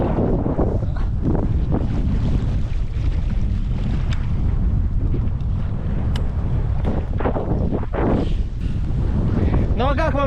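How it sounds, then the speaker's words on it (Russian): Strong wind gusts roar across open water on a paddleboard (SUP) outing in September, a loud, continuous buffeting rumble with splashes and faint voices at times. "Пережидаем порывы ветра."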